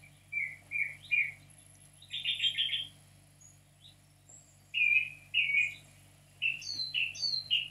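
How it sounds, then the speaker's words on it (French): A bird sings in short, clear chirping phrases with pauses between them, fairly faint against a quiet low hum. "le patient entend des chants d'oiseaux"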